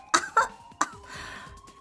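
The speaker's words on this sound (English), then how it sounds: "she's coughing so hard she can't even talk" Clover coughing hard in Zero Escape: 999, three sharp, harsh coughs in quick succession, close and loud, followed by a strained breathy tail as a faint tone hums in the background.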